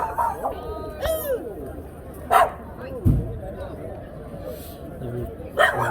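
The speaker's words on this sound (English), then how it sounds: "That's Tiffany bark in the background." A small dog gives a few short, high barks and yips at intervals, mixed in with people talking nearby.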